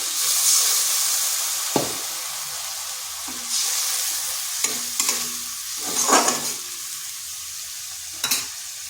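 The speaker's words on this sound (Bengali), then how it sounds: "এখানে দিয়ে দেবো সামান্য একটু জল" A splash of water poured into a hot pan of cooking rohu fish curry with elephant foot yam, giving a steady steamy sizzle and hiss broken by a few sharp clinks and scrapes of a utensil.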